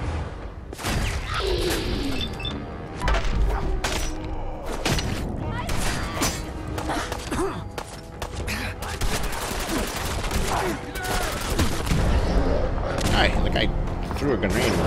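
Dense, rapid gunfire from a turret in Fallout 4 hammers away almost without pause, with loud bursts, thuds and crashes layered over continuous combat noise.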